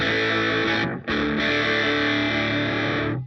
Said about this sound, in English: add a little bit of distortion